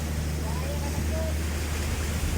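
Continuous broadband wash of sea waves and wind surrounds a small boat off Manay, Davao Oriental. The noise is steady and close, with a low engine-like hum beneath and a faint voice mixed in.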